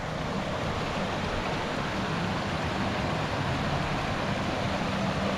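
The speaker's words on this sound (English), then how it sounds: "This is Clear Creek." Flowing water of Clear Creek in Georgetown, Colorado: a steady, dense broadband rush that holds evenly throughout, close and continuous with no voices.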